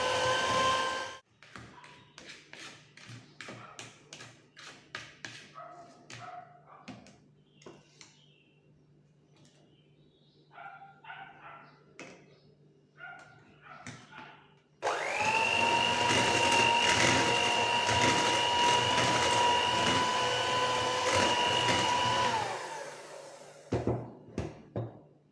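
An electric hand mixer creams butter cheesecake batter in a bowl, a steady loud whirring drone lasting several seconds after a stretch of quieter clinks and bowl handling, then cutting off abruptly.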